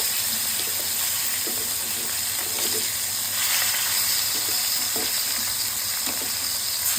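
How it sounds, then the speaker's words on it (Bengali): Fish pieces frying in hot oil in a home kitchen, a continuous hissing sizzle up close with faint intermittent taps and scrapes, steady in loudness throughout. "দুটো পাশই ভালোভাবে ভেজে নিব"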